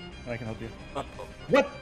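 Enemy dog in a video game yipping and barking in short bursts, with a louder yelp near the end, heard under players' speech.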